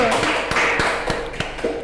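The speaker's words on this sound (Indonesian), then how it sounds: "Tepuk tangan dulu." A few scattered, sparse claps ring out for a teacher guest on a school talk show from MAN 2 Kebumen, over a faint steady background tone.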